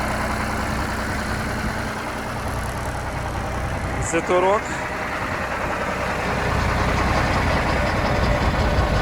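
A low engine idles steadily and close by, a continuous rumble with someone briefly talking over it.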